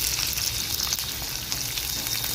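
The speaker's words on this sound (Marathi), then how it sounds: "तीन छोट्या पाकळ्या लसूण छोटंसं आलं घालणार आहे" A close, steady sizzle comes from garlic cloves and ginger frying in a pan, a dense unbroken hiss with a faint stir or two and no voices.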